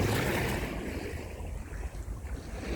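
Ocean waves wash onto Middle South Bay Beach at Repulse Bay, Hong Kong, during high tide, a continuous broad rushing surf with wind noise buffeting the microphone.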